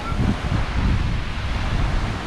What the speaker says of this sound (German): Ein stürmiger Morgen hier in Freedom Shores.